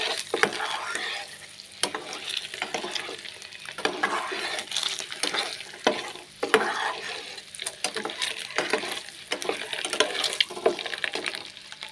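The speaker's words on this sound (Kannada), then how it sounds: "ಮೊಟ್ಟೆನ ಒಂದು ಸ್ವಲ್ಪ ಫ್ರೈ ಮಾಡ್ಕೋತೀನಿ. ಒಂದು 2 ನಿಮಿಷ ಮೊಟ್ಟೆನ ಫ್ರೈ ಮಾಡ್ಕೋಬೇಕು" Eggs frying in a pan for egg biryani while being stirred, a continuous sizzle broken by repeated sharp spatula scrapes and knocks, close and fairly loud.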